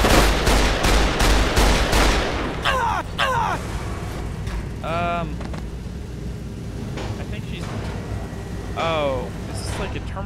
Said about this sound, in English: This is a powerful gun